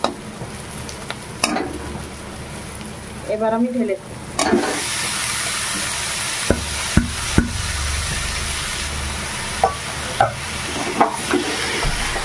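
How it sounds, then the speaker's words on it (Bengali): Shrimp frying in spice paste over a low flame, in a dish with elephant foot yam stalks, gives a steady hiss broken by sharp metal stirring clicks and scrapes. A voice speaks briefly partway through. "দেখুন চিংড়ি মাছগুলো আমার ভাজা হয়ে গেছে।"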